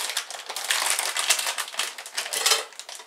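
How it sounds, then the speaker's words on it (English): A plastic packet crinkles and rustles close up while raisins are added to a homemade chicken feed mix, a continuous irregular crackling without talk. "Excuse the rustling for a minute."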